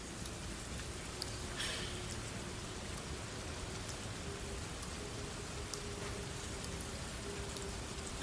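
Heavy rain hammers down outside in a steady, dense wash of drops, constant and enveloping with no pauses, heard from indoors.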